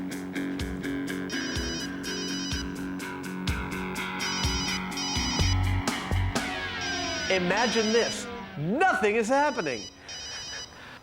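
A cell phone rings during a spark test near vaporized gasoline, giving a repeating electronic ringtone in regular bursts while someone talks over it and distorted, warbling tones join near the end.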